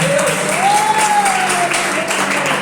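A church congregation claps loudly and continuously in a dense, steady wash of applause, with a sustained voice or tone carrying faintly above it.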